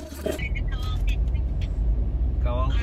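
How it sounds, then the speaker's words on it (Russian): Cars idle and creep in a dense holiday traffic jam on the road to Tekirdağ, Turkey, on the last day of Bayram. There is a steady low engine rumble close by, and voices are heard over it. "Смотрите, какая пробка."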